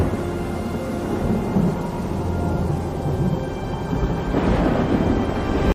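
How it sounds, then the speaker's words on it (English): A thunderstorm rolls through a forest with a continuous heavy rumble of thunder and rain, loud and unbroken, swelling slightly near the end. "A terrible storm rolled through the forest."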